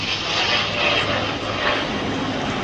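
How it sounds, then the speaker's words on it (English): A Corsair propeller fighter with cranked wings flies past at the Duxford Flying Legends air show, its engine a loud, steady drone that swells and eases slightly throughout with no talk. "a very, very fast aeroplane with the cranked wing"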